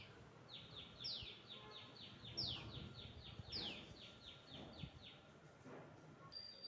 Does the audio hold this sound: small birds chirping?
yes